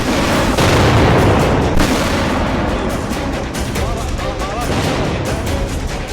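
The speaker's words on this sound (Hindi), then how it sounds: "लाइव एंकरिंग के दौरान बड़ा धमाका।" Large blast from an Israeli drone strike on Damascus, Syria, during a live TV news broadcast: a loud, sustained roar and rumble of explosion and debris fills the whole stretch, easing slightly toward the end.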